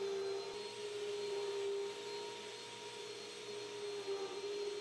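A cyclonic bagless upright vacuum cleaner, the Extreme UD20010, runs over carpet with a loud, steady motor drone and a constant high whine, unbroken throughout.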